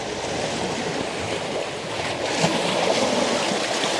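Sea waves wash in on a shore in a steady surf roar, swelling slightly as a wave breaks partway through, with no voices.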